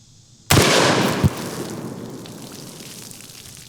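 A single loud gunshot from a PTR-91 rifle chambered in .308, an American clone of the HK design, cracks sharply and then rolls into a long reverberant tail that fades slowly. A second, smaller impact follows briefly after the shot.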